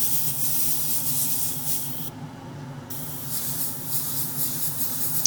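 An airbrush sprays Zero Paints lacquer onto a Hasegawa Lancia 037 Rally scale model, giving a steady close airy hiss that continues throughout except for a brief pause in the middle, with no one speaking.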